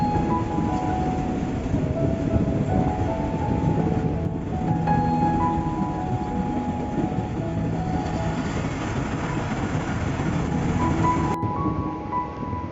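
A passenger train pulls into Malir railway station in Pakistan, with a continuous loud rumble of wheels and rolling carriages and faint tonal squeals as it slows, heard from on board, with no one talking.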